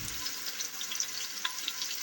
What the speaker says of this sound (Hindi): प्याज हमारे पक रहे हैं